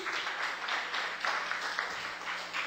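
A church congregation applauds at a worship service, a soft, fairly distant patter of many hands clapping steadily.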